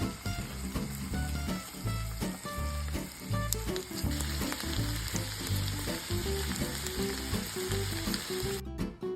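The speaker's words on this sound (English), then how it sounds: "Frying for a few minutes." Snail meat sizzles and fries steadily in a pan, a dense, continuous crackle with occasional stirring knocks, close and fairly loud throughout with no talking.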